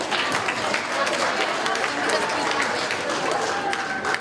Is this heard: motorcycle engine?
no